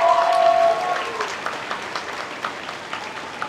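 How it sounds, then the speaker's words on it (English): A short round of applause from the crowd at a 4-H chick show and sale, scattered clapping after a brief tone at the start, moderately loud and fading to lighter claps. "Would you give Mr. Cotton a big round of applause"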